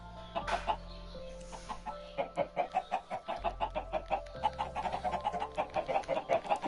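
Many chickens cluck in a video game, a steady stream of overlapping short clucks that grows denser and louder, with a low electronic hum underneath and no talking.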